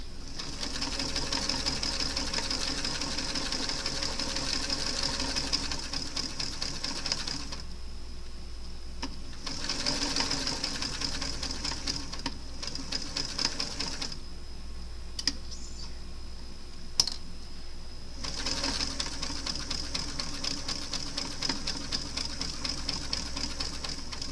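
A sewing machine stitching lace fabric for a pretty lacy top, running in close continuous bursts of rapid whirring with brief pauses and clicks between runs as the stitching stops and restarts.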